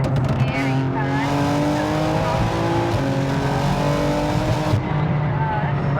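A 2026 BMW M4 xComp with catless downpipes on corn fuel accelerates hard, its engine note rising in loud, steady stepped harmonics from inside the cabin, with a voice speaking over the roar.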